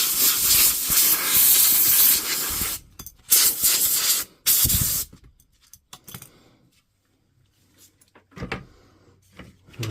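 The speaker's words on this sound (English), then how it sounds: "We're going to wipe and air dry with the compressor." Loud compressed air from a compressor hisses in strong bursts while drying a Dewalt DCN660 nailer after contact cleaner, cutting off and restarting several times before dropping to quiet handling sounds and short blasts.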